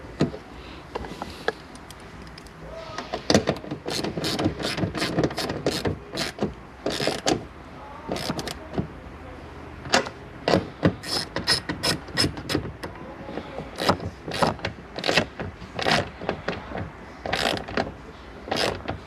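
A ratchet with a 10mm socket tightens the tail lamp nuts on a 2019-or-newer Nissan Altima, giving quick clustered clicks with handling noises between them, close and fairly loud with no talking.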